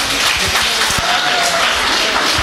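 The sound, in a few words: audience applause for Geeta after dance performance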